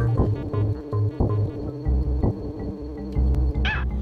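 A buzzing bee enemy in the SNES game Donkey Kong Country 3, a throbbing insect-like drone that pulses in repeated bursts over game music and effects, loud and close, with no talk.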